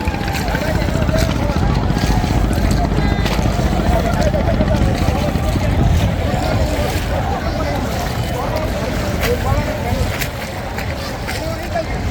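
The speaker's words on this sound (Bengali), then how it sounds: "নৌকাটা নৌকা" A boat drones in a continuous, loud rumble mixed with gusty wind noise, with voices faintly present underneath.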